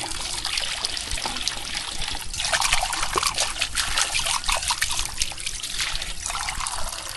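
Water runs steadily from a tap, its first flow slightly sandy, splashing and trickling continuously at close range, with no talking.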